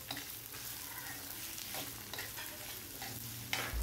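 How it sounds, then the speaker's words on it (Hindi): Chopped onion fries in a pan until golden for a paneer curry, a soft, steady sizzle broken by repeated stirring scrapes, quiet and close, with no voices. "प्याज को सुनहरी होने तक पका लेना है"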